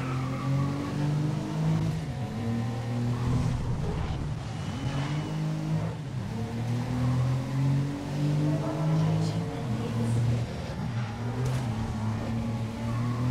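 Race car engine in the racing video game GRID, held at a steady high drone through a four-lap race on a rain-soaked track, with pitch shifts as it revs through gears and brief tire squeal, continuous and close throughout.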